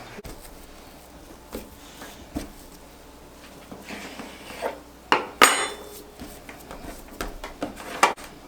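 Kitchen rummaging for a knife: scattered clinks and knocks of cutlery and dishes, a louder metallic clatter midway and a few sharp taps after, close by with no talking.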